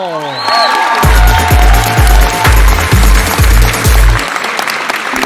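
Sustained applause from a crowd, dense clapping that swells loudly and carries on for several seconds, with low rhythmic thumps running underneath.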